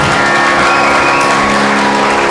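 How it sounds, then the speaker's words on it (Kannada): A crowd at a district government Constitution event bursts into loud, dense applause that stays at full strength throughout, with no voices over it. "ಜೋರಾದ ಚಪ್ಪಾಳೆಯನ್ನು ತಗಬೇಕು."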